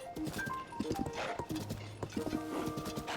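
Horse hooves clip-clop in a steady rhythm, close and clear, with a few brief whinny-like tones over a busy game soundscape in The Legend of Zelda: Tears of the Kingdom.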